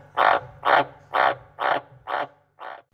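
A male White's tree frog gives six evenly spaced croaking calls, each a short raspy burst, close and clear with nothing else audible.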